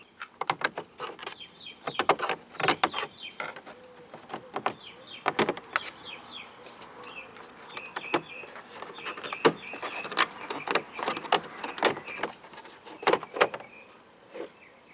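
A car door trim panel is pried loose from the door with a plastic pry tool while replacing a window regulator, giving a scattered series of sharp snaps, clicks and pops with light scraping in between, close up.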